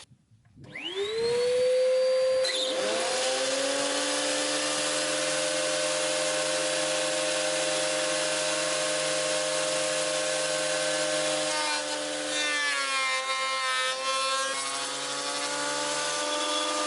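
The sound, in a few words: power planer planing reclaimed upcycled wood boards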